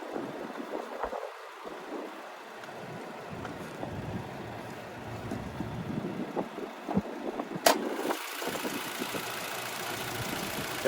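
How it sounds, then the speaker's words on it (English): A 2021 Honda Civic Sport sedan's 2.0-liter naturally aspirated four-cylinder idles steadily under the open hood, a low, quiet hum with faint wind buffeting on the microphone and a brief click partway through. "And there's that 2-liter naturally aspirated 4-cylinder there."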